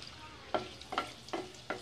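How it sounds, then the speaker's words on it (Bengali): Dried red chillies frying in hot oil in a home kitchen pan, faint sizzling broken by four evenly spaced scraping stirs. "তেলে শুকনো মরিচগুলো দিয়ে দিলাম, এখন একটু নেড়ে ছেড়ে ভেজে নিব।"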